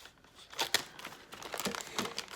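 Plastic package of cabana bites and cubed cheese being cut open, close-up crinkling and rustling of the wrapper in irregular bursts, fairly quiet and heard alone.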